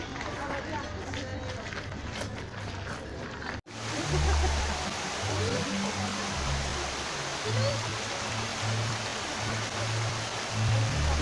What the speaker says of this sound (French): Ici, on a la petite cascade.